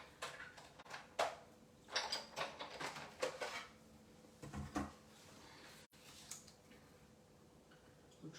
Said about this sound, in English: Just need to run it through my die cutting machine